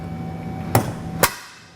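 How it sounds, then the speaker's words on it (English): A hammer strikes a bolt to drive it past a retainer on a vehicle's body while a hidden hitch receiver is installed, giving two sharp metallic hits about half a second apart. Each hit is loud and close, with a short ring after it. "we're just going to take a hammer here"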